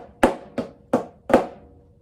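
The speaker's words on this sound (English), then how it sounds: "So a Flamacue sounds like this." Close, crisp strokes on a snare drum play the Flamacue rudiment: four sharp hits in a steady rhythm, the last slightly accented and ringing a bit longer.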